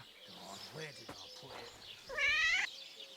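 In the video game Kingdom Come: Deliverance 2, a cat gives one clear, drawn-out meow near the end, after a stretch of quieter murmuring that sounds like voices.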